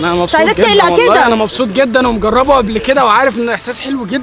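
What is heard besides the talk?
No everyday noise stands out behind the speech.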